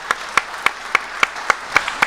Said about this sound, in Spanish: Muy fuerte, sí, podemos aplaudir.